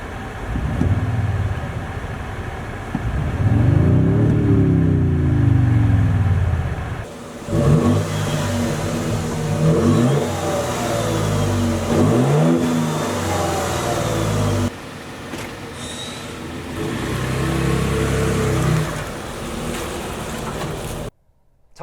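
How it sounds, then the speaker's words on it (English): A 2024 Toyota Tundra TRD Pro truck engine revs loudly and accelerates, rising in pitch through several gear shifts, with steady road and drivetrain noise throughout and no talking. "Time to take the new Tundra TRD Pro for a drive."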